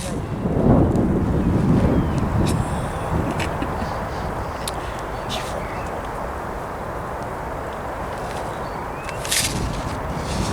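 Strong wind buffets an outdoor microphone in steady low rumbling gusts, loudest in the first couple of seconds and then holding at a constant roar, with a few faint sharp knocks in the background.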